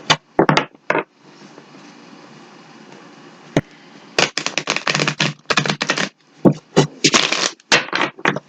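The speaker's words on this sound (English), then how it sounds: "Just let me give it one more shuffle." Tarot cards being shuffled at close range: quick crisp bursts of riffling and flicking, a long soft rustling stretch in the middle, then a rapid run of sharp papery snaps, with no talking.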